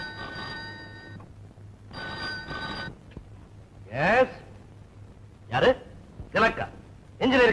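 A telephone rings in two long harmonic bursts, then a few people speak briefly in the room.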